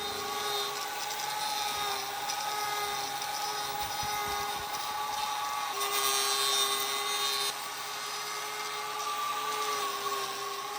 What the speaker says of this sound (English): we're just going to shave this little pointy bit back with the grinder